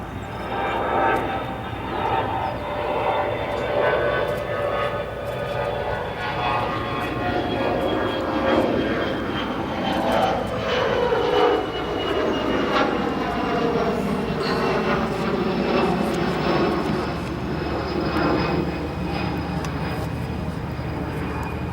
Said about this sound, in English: we're going to come over and look at a retro CRJ 200